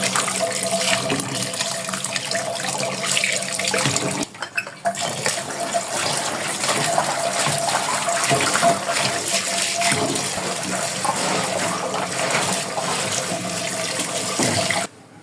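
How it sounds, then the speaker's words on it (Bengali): Running tap water splashes steadily into a sink while fish are rinsed by hand, with light clatter of a dish underneath and a brief break in the flow partway through. "আমি বাজিগুলাকে ধুয়ে নিতেছি"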